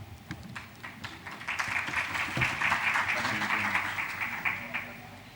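Sustained audience applause at a stakeholder forum on energy partnerships, a dense wash of many hands clapping that swells and holds for several seconds in a large room, with some voices murmuring underneath.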